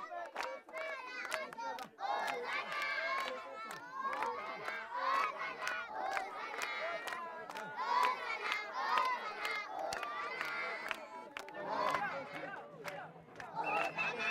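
Villagers form a dense crowd, shouting and cheering all together in a loud, continuous roar, with sharp clapping-like hits scattered through it and no pauses.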